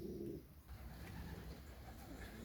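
Pigeons in a loft at evening, settling down to roost, give a soft, low cooing call at the start, heard faintly and close against a steady hum of background noise.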